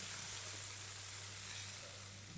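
Hot tadka tempering poured over methi dal, giving a steady, close sizzle and crackle of frying oil that holds evenly throughout with no voices.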